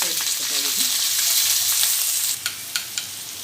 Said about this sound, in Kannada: ಸ್ವಲ್ಪ ಎಣ್ಣೆ, ಸ್ವಲ್ಪ ಕಡಲೆಬೇಳೆ ಹಾಕ್ತಾಯಿದ್ದೀನಿ, ಕರಿಬೇವು, ಹಸಿಮೆಣಸಿನ್ಕಾಯಿ ಮತ್ತು ಈರುಳ್ಳಿನ ಸೇರಿಸ್ಕೊತಾ ಇದ್ದೀನಿ